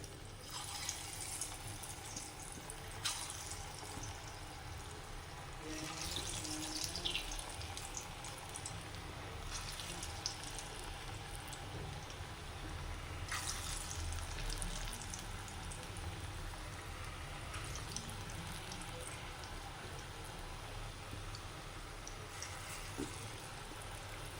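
Chickpea pakoda batter fries in hot coconut oil in a kadai, a quiet continuous bubbling sizzle with occasional louder crackling bursts, steady and unbroken for a long stretch.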